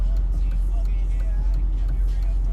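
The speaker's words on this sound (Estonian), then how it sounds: "Näe, täpselt autod järjest tulevad." Steady low rumble of road traffic, cars passing one after another nearby with a continuous engine and tire drone throughout.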